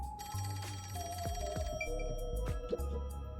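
A telephone rings in the video game Rain Code, its steady electronic trill sounding over continuous music and game effects, loud and close.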